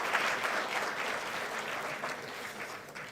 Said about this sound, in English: Please give a big round of applause to all the award winners again.